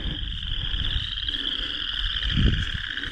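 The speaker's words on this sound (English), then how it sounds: "Hear the frogs?" A dense, continuous chorus of croaking frogs on a hike in Elk Grove, Iowa, high and steady, with a faint low rustle underneath.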